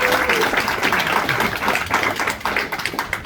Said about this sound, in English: A round of applause for the pharmacist